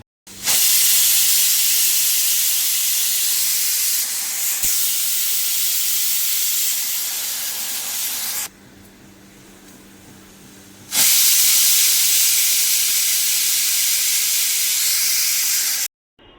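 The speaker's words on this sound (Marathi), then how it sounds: "आता ह्याला चार पाच चांगल्या शिट्ट्या होऊन द्यायच्या आहेत" A pressure cooker of soaking dal on the stove lets off loud, sustained steam whistles and hissing, two long blasts separated by a quieter few seconds of low steam.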